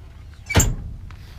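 The glove box of a 1966 Ford F100 pickup with a 4-speed opens with one close, sharp metallic clunk and a brief rattle, then quiet.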